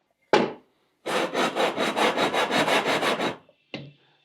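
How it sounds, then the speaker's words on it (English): Wood is hand-sanded with 80 grit sandpaper: one short scrape, then a quick run of about ten even back-and-forth strokes, and a final brief rub, close up with silence between. "So I've got 2 pieces of 80 grit sandpaper here, and I'm gonna start sanding."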